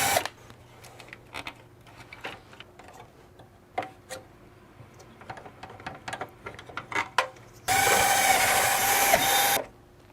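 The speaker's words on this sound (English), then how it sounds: "Remove a couple of the screws." Screws being removed from the heatsink of a QNAP TVS-673E NAS: a scatter of small ticks and clicks from a nearby screwdriver, then a loud steady whirring burst near the end.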